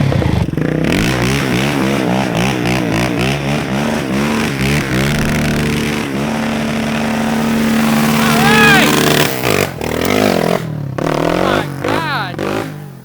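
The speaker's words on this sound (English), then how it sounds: "I knew the bike was gonna rip it right there in the grass" An ATV engine revs hard while riding through grass, rising and falling in pitch with throttle changes, loud and close, with a few short gaps near the end.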